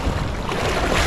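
A strong river current rushes in a steady, loud, broadband roar, close to the microphone, with a dense wash of water noise and no speech.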